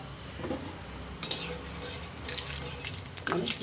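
Cumin seeds fry in a little oil in a pan for coriander spicy rice, a soft steady sizzle broken by a few clinks of a spoon against the metal, with faint voice in the background.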